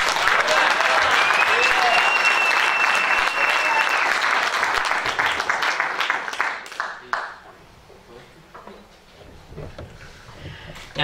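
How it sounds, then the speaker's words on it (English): Applause for a bass player at a jazz concert in a library, a loud sustained round of clapping from the audience with voices mixed in, tapering off into scattered claps. "Again, a wonderful round of applause, Mr. Vince DuPont."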